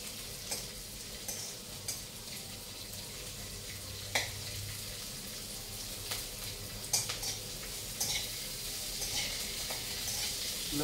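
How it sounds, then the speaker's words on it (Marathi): Green chillies, cluster beans and garlic stir-frying in a pan over medium heat, a faint continuous sizzle broken by scattered scraping clicks of a spatula, with no voices. "मिरच्याला थोडा चटका बसल्यानंतर गवारी शेंगा पण टाकायचे. ते तिन्ही जिन्नस चांगलं परतून घ्यायचं आहे."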